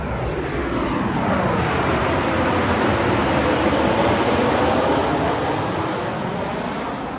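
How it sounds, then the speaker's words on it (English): A loud, continuous jet roar fills the air, swelling and sweeping as an airplane passes low overhead, with no talking. "Listen to the sound of the plane overhead."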